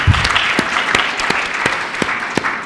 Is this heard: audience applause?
yes